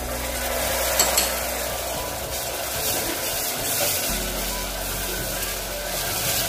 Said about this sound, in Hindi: अब इसमें ये टमाटर डाल देते हैं।